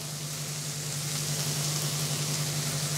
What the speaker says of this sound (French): Le jambon. Une petite tranche qu'on a prédécoupée avant. Et ça va cuire gentiment.